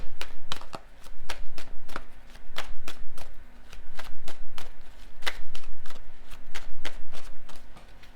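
Tarot cards are shuffled again and again in a steady run of crisp, close riffling slaps and flicks during a reading, with no voices.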